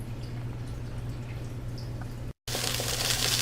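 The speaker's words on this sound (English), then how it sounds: "Now you can see water start boiling really hot, and then some water vapors also coming out" Water coming to a boil in a pan over slow heat, a steady bubbling and dripping rattle that holds close and even throughout, cutting out briefly before returning brighter and louder.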